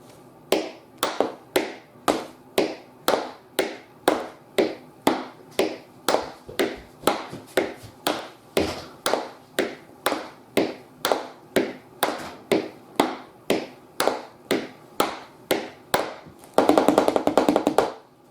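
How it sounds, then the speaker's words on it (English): Tap shoes strike a hard floor in a steady run of sharp, crisp beats, popcorn step variations repeated evenly and close, ending in a quick dense flurry of taps. "this step I call the popcorn step"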